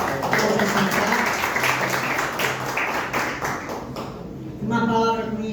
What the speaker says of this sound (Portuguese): Nem só até aqui as palmas ao Senhor